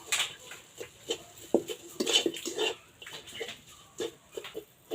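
Semolina halwa is stirred in a pan, with a spoon scraping and clinking against the metal in uneven bursts, close and fairly quiet.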